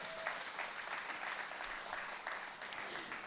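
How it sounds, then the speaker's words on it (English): A crowd at an International Women's Day celebration in Grenada applauds steadily, a continuous, even wash of many hands clapping at a slight distance, with no break across the stretch. "Let's give her a round of applause."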